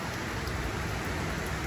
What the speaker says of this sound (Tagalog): Buti sana hangin lang kaso may kasamang ulan eh